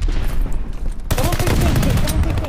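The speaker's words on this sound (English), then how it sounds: "I'm shooting, he's weak behind" A first-person shooter game on a Hardpoint match, with dense rapid gunfire that grows louder and fuller partway through and stays loud and continuous to the end.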